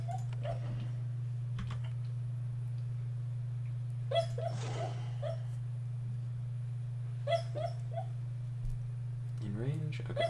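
A dog lying upside down asleep, letting out short muffled yips and soft whimpers scattered over several seconds, under a constant low electrical hum and intermittent keyboard clicking.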